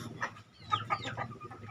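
A Bangkok hen and a Black Bull rooster cluck close by during a crossbreeding pairing, several short uneven clucks and squawks at moderate volume.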